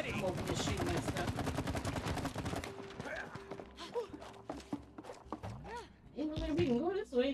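Video game gunfire during a boss battle arrives as rapid bursts of shots that thin out to scattered hits, while a player talks over it.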